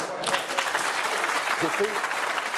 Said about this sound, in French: Alors, les applaudissements, on n'est pas dans une arène, s'il vous plaît.